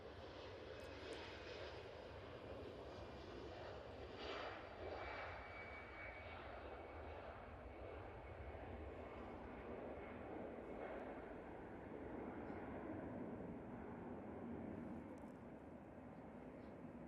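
A Qatar Airways airliner at Manchester Airport roars steadily from a distance, a broad continuous engine rumble with no one talking.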